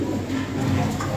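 A Lahori Sirazi pigeon with a red beak and red eyes gives a single brief, soft coo at close range.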